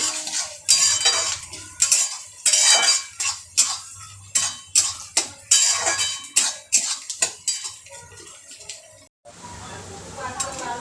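Onions sauté in a pan while a utensil scrapes and clanks against the metal in a rapid series of stirring strokes over a low sizzle, then the sizzle alone, louder and steady, for the last couple of seconds.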